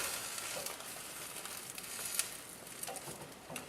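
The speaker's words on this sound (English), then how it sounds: "I'm going to go ahead and throw a fold on this omelet." An omelet with melting cheese sizzles quietly in a pan as it is folded, with a soft continuous fry, light crackles and a faint scrape or tap from the spatula, and no one talking.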